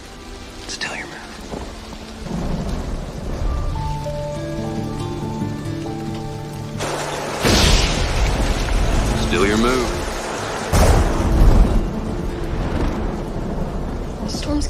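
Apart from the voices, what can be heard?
thunderstorm with thunder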